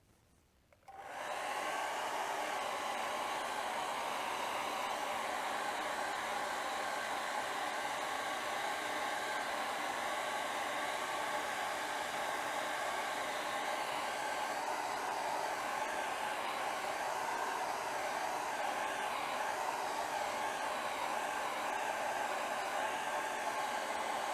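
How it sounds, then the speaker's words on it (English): A hair dryer switches on and blows steadily for a long stretch, a loud, even rushing whoosh with no talking. "One more hit with a blow dryer"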